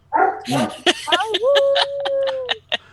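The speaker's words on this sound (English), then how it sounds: "Sorry, my dog was talking." A pet dog close by, letting out a quick run of barks and yips, then one long high whine followed by short whimpering yelps. The sound is loud and alone.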